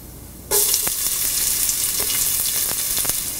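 Chopped shallots drop into hot coconut oil with popped mustard seeds and burst into a loud, sudden sizzle. The sizzle holds steady with sharp crackles and a few pops, close and alone.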